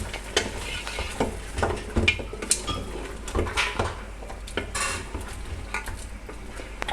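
Beef paya being stirred and fried in ghee in a pot: a spoon scrapes and clinks steadily against the metal over a soft continuous sizzle, close up, with no talking.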